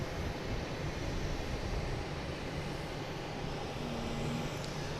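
Continuous low roar of an Air Canada jet airliner heading to Montreal, steady and moderately distant, with a faint tonal whine toward the end and no talking.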